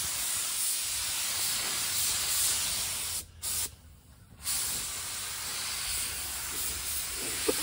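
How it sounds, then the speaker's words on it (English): A spray gun lays clear coat onto a wide body kit for a Suzuki Carry, giving a loud, close, steady hiss that stops briefly twice near the middle and then resumes and continues to the end. "is adding the clear coat, which makes the paint shiny."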